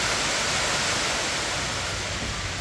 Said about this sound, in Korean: 여기는 인공폭포가 조성이 되어 있는데요. 굉장히 물줄기가 아름답게 흘러내리고 있습니다.